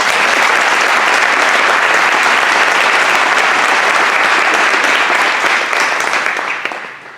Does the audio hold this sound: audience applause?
yes